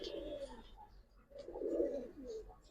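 Pigeons of a double-barred red-geared breed cooing softly, with two low, throaty coo phrases separated by a short pause, quiet and close, with a few faint chirps in the background.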